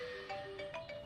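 A short electronic ringtone plays a bright, repeating melodic tune, fairly clear with no voices.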